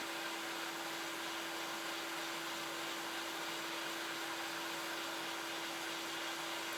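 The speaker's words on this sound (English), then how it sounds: "Come in a little bit closer and get some more directed heat right over that chip." A hot air rework station blows over a chip on an Xbox circuit board, producing a steady, even airy hiss with a faint constant whine, quiet and unbroken with no talking.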